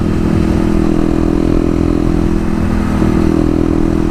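A Kawasaki KLX250 motorcycle engine drones loud and close throughout the ride, a steady mid-pitched roar with light mechanical clatter and no pauses.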